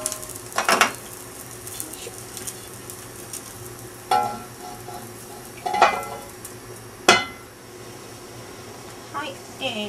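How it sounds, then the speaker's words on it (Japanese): Iron pot lid set down over spare ribs roasting on medium-low heat, heard as a few sharp metallic clinks and clanks spaced apart over a faint steady sizzle, fairly close. "でこれで蓋をしてじわじわと焼いていきます"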